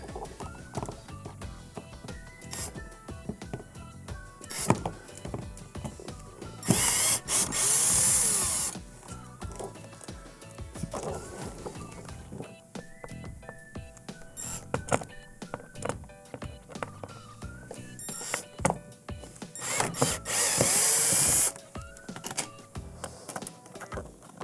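A power drill backs screws out of the bracket on a Samsung dishwasher during a dispenser assembly repair, with two loud whirring bursts separated by quieter clicks and tool handling.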